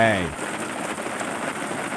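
Sprinklers spray artificial rain over a frog-rearing pond with a steady, dense hiss of falling water, loud and continuous after a brief low hum fades at the start.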